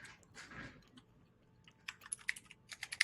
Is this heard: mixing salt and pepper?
no